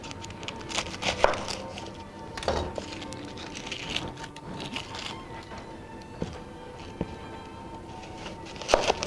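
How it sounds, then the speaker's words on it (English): A knife chops an onion on a board, with uneven taps spread across the stretch and a few sharper strikes, close and fairly loud over a busy kitchen background. "we're going to cut an onion"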